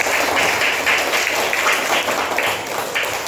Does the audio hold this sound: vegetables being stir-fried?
no